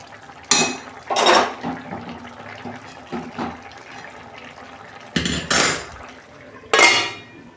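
A metal pot lid clanks and scrapes as it is lifted and set back over bottle gourd simmering with shrimp, with four sharp, close knocks spread across a quiet kitchen background.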